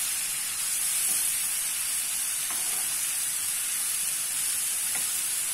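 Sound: green beans sautéing in a pan

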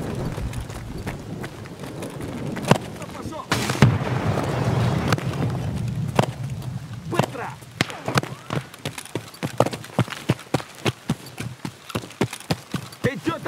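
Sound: grenade explosion and gunfire in Escape from Tarkov video game

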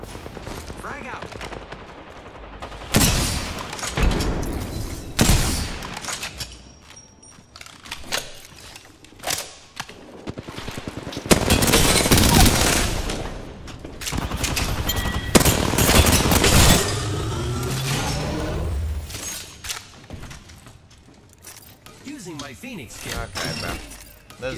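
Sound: gunfire in a video game

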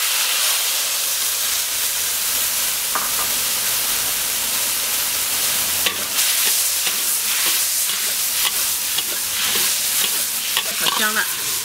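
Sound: chopped chili sizzling in hot oil in wok

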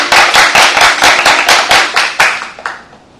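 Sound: classroom applause for classmate Omar

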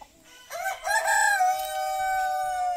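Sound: Polish giant chickens clucking and rooster crowing

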